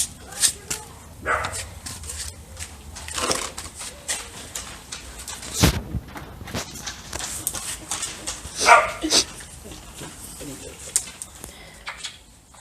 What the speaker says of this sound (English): Puppy, puppy, puppy!